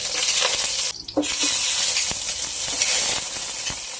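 Garlic sizzling in hot cooking oil for pancit, a loud, steady frying hiss close by with brief crackles and a short dip near the start, with no talking.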